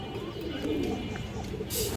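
A Tota male pigeon of old bloodline coos in low, murmuring rolls close by, with other pigeons and faint chirps around it and a brief louder rustle near the end.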